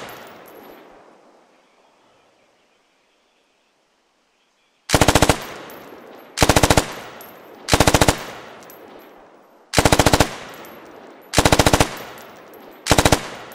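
A SAW machine gun in the game Squad fires six loud, sharp bursts in an even rhythm, each separated by a short pause, after a fading low rumble and a stretch of near silence.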